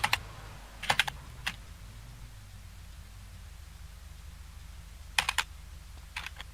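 Sharp bursts of computer keyboard clicks in small clusters while playing MTA, with quiet gaps of steady hiss between them, close by.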